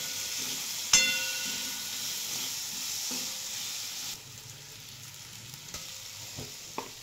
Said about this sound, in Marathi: बटाटा चांगलं तेलामध्ये परतवून घ्यायचं, जेणेकरून ना लवकर शिजेल